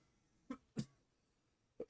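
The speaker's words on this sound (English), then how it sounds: "DM coughing." Three faint, short coughs, two close together and one after a pause, in a quiet room.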